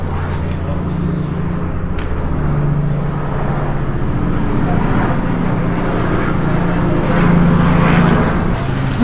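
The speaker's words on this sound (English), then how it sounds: "I wonder if I can hear the helicopter." A helicopter passes overhead above Cobbold Gorge in Queensland, a continuous low rotor and engine drone dominating throughout, with a voice briefly heard.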